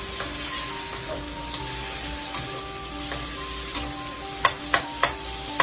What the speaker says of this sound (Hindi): इसको 5 मिनट तक हम हिलाएंगे। ये देखोगे, इसको हिलाते रहना।